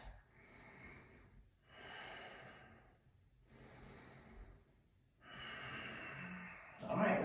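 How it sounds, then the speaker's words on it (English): Slow, deep breaths drawn in and let out during a yoga session, soft, close and unhurried, with clear pauses between each inhale and exhale. "Just 2 more breaths."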